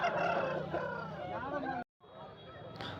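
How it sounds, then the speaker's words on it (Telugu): A one-year-old Kakinemili rooster, about 3.5 kg, at the weekly Galiveedu market crows in a long, strained call close by, then a shorter second crow follows after a brief pause, with market chatter faintly underneath. "వీడియోలో కనిపిస్తుంది కాకినేమిలి పుంజు."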